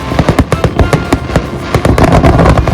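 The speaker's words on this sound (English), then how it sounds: "being able to watch the fireworks from the deck of Bandit" Fireworks burst over the water as seen from a sailboat deck during Carnival celebrations, a dense rapid string of loud cracks and booms, near and continuous, with no talking.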